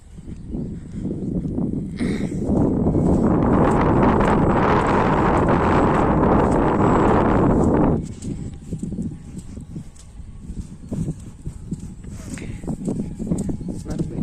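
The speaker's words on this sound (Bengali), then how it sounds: "কি সুন্দর বাতাস দেখছস?" Wind gusting beside a new village road in Hesakhal, roaring hard against the microphone for several seconds before easing to a lighter, ragged breeze, with voices talking around it.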